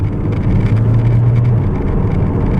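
A 2016 Kia Optima Platinum accelerating hard in third gear in manual sport mode, a loud steady engine drone with a rising tone heard from inside the cabin.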